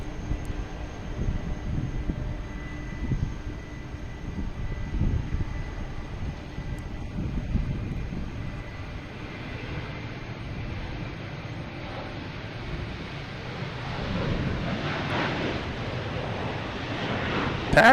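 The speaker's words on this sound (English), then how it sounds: "I got United Airlines taking off, heading to Houston, 737-900." A United Airlines Boeing 737-900 bound for Houston takes off at Boston Logan, a moderate, distant jet rumble that swells toward the end, with wind noise on the microphone.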